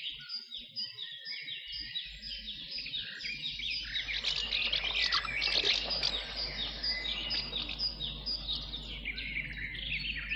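A flock of swallows chirps in a countryside setting where woodland meets meadow, a dense, continuous chatter of high twittering calls that swells in the middle and stays close and lively throughout, with no voices.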